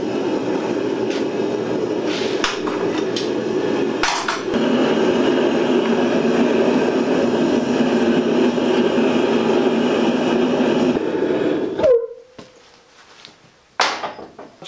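A sander grinding steadily against a forged axe head made from a truck spring, a loud continuous drone with a few knocks, then it cuts off and leaves quiet clanks.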